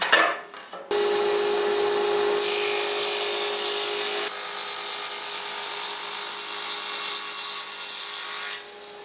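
A power tool cuts a dado into pine wardrobe trim pieces, starting abruptly after a short rustle and running as a steady, loud whine with a shifting tone as the cut progresses, then stopping near the end.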